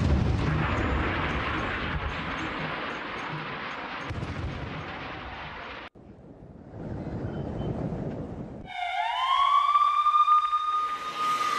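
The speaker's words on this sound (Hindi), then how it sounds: "तोपों की सलामी दी गई पुतिन को जब वो पहुंचे यूएई।" A cannon salute greets Putin's arrival in the UAE: rolling, booming blasts and rumble fill the first half, a brief gap follows, then a rising siren-like wail sounds loudly at the end.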